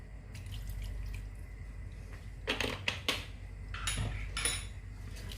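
Vinegar, about one and a half tablespoons, is poured into mango pickle, giving short liquid drips and splashes with light clinks of a spoon against the container over a steady low background.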